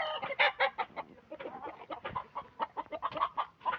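Several chickens cluck and squawk in rapid, agitated bursts while being chased by a child, close by and fairly loud.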